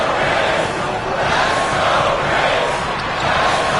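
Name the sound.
basketball arena crowd cheering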